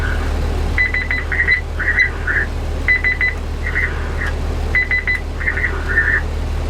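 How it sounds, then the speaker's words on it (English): Groups of three electronic beeps from a radio signalling a busy channel repeat in steady bursts, clear and mid-loud, over a constant low hum and background hiss. "the 3 beeps says the channel is busy, don't talk yet"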